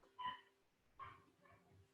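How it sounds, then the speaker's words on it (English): A dog barks in the background of a quiet room, with two faint, sharp barks about a second apart and a softer yip after them. "you might hear my dog barking in the background"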